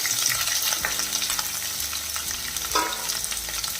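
Ginger, green chilies and a large onion cut into square pieces sauté in a pan for sweet potato masala, giving a continuous close sizzle with a few stirring scrapes and no voices.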